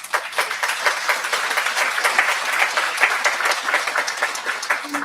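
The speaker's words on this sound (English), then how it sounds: "give these guys a round of applause" A summit audience in a large room gives a sustained round of applause, dense loud clapping from many hands continuing steadily throughout without a break.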